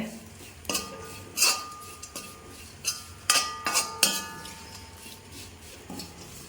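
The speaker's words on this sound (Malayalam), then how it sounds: "ഇട്ടിട്ട് നമുക്കിതൊന്ന് കൂട്ടിയിളക്കാം" Metal spoon scrapes and clinks against a hot Indalium pan while fish pickle gravy is stirred, a handful of irregular sharp knocks and clatters, close and fairly loud, no talking.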